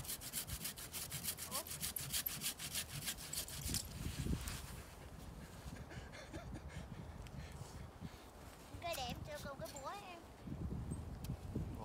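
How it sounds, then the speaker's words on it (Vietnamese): A hand saw rasps through a Christmas tree trunk in quick, rhythmic back-and-forth strokes, close by, then gives way to voices and rustling noise. "Nhìn anh cưa nè."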